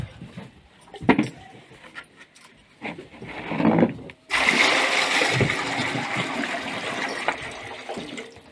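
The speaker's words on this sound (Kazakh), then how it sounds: "Мына суды апарып құямыз." Water is carried over and tipped out, sending up a loud sustained splashing rush after a few quieter knocks and sloshes, the pour continuing steadily to the end.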